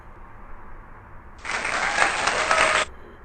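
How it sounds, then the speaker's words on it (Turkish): A canned applause sound effect added in a video editor bursts in abruptly, holds loud and even for about a second and a half, then cuts off sharply over a quiet background. "Alkış sesi ekleyeceksiniz mesela."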